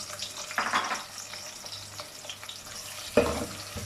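Onions frying in oil in a pot for chicken biryani, a steady close sizzle with brief stirring scrapes, one louder stir near the end, no talking.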